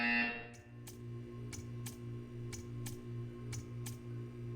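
A buzzer sounds in the video game Portal 2 as a series of evenly spaced electronic pulses ticking over a low steady hum, repeating for several seconds at moderate volume.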